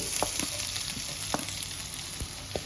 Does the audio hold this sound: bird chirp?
no